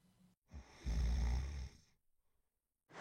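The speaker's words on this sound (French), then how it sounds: "il ronfle" A young adventurer snores in bed, one long, deep rasping inhale rising out of the quiet, then a pause of near silence, close and alone.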